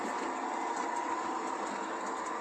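Continuous whirring rumble of a small train running along its track, steady and close, with faint rhythmic clicking.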